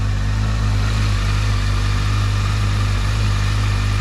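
A Honda CBF 1000 motorcycle engine warms up at idle, a steady, loud, low hum with no change in pitch throughout.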